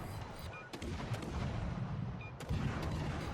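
Naval guns of the Dutch destroyer HNLMS Friesland firing rapidly in World of Warships Legends, a dense rumbling barrage of booms with a few sharper reports standing out, continuous and fairly loud with no voices.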